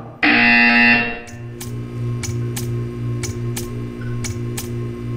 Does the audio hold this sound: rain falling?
no